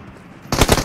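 Automatic gunfire in a battle royale video game, a loud burst of rapid shots starting abruptly after a quiet lead-in and continuing in a dense rattling volley.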